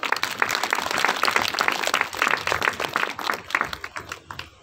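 A church congregation at a Sunday service bursts into applause, a dense burst of many hands clapping at close range for several seconds before tapering off.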